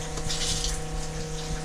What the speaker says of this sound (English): Here goes the water into the carbon filter.